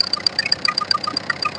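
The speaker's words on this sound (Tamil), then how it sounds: "இப்போ என்னோட இன்ஜின் கண்டிஷன் எப்படி இருக்குன்னு செக் பண்ணலாம் வாங்க." A 2013 Tata Indigo diesel car engine idling, heard close with a steady rhythmic clatter and regular ticking pulses, alone without talk.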